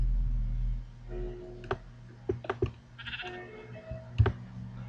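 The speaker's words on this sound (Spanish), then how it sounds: "Qué susto la oveja" A sheep bleats in a Minecraft adventure map game, several short calls at close range over a steady low in-game hum, with a few sharp clicks mixed in.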